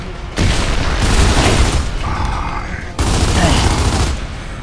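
Gunfire in the video game Gears of War 2, dense sustained bursts of loud booming shots in two long volleys separated by a short gap, close and heavy throughout.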